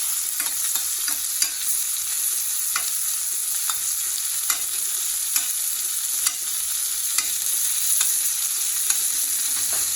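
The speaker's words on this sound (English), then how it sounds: "This butter basting technique will practically finish the cooking process." A steak sizzles in a pan as it is butter basted, a constant close hiss of frying fat broken by light spoon clinks and spatters, with no talk throughout.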